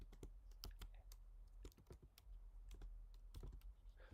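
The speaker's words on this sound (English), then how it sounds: "I'm typing it in now" Quiet, irregular clicking of keys on a computer keyboard, bursts of rapid taps with brief pauses, close by over a low hum.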